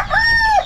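A single short rooster crow, loud and close, with a drawn-out tone that dips at the end.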